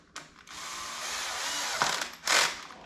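Power driver running screws into plastic on a 12S Traxxas Super XRT RC truck build, a steady high-pitched whir lasting most of the clip, then a brief pause and a louder final burst as a screw seats.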